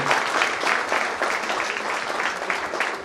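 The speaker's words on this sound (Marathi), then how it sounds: "त्यांच्या पालकांसाठी पुन्हा एकदा टाळ्या झाल्या पाहिजे" Steady, dense applause from a crowd at an engineering college felicitation event, sustained throughout with many hands clapping at once, fairly loud and close.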